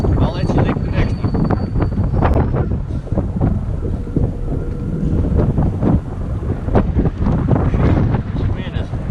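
Strong wind buffets the microphone aboard a river fishing boat, a loud continuous rumble with gusty bursts, while someone talks over it.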